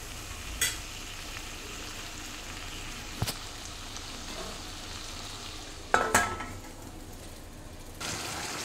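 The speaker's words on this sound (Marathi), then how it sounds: "परत एकदा हलवून वाफेवर शिजायला ठेवणार" Stuffed eggplant in a pan is stirred and left to steam-cook, with a quiet steady sizzle broken by a few sharp spatula scrapes and clanks against the pan.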